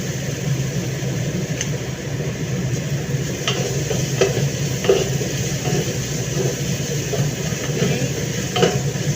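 Garlic frying in a pan for a chicken and vegetable dish, a continuous close sizzle with occasional stirring clicks and scrapes, no talk.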